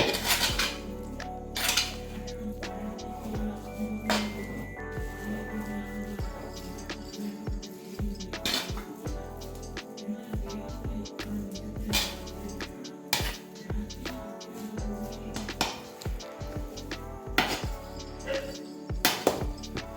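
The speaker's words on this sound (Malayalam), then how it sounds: "ചെറുതായി ഒന്ന് മിക്സ് ചെയ്തതിന് ശേഷം പ്ലേറ്റിലോട്ട് മാറ്റാം" Beef dum biryani is mixed and shifted onto a plate, with steady, close clatter of metal utensils scraping and knocking against a pot and plate throughout, no voices.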